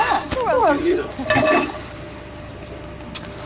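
Pots, pans and utensils clink and clatter during cooking in The Sims 4 video game, with short bursts of voice-like game chatter near the start before the kitchen sounds fade to a quiet background.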